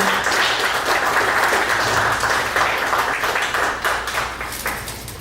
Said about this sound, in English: We stand up for him as well and give him a round of applause.